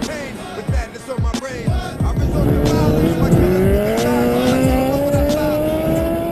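A modified high-powered car launching hard from a standstill, with tires squealing loudly and the engine note climbing in rising tones over several seconds, close and intense.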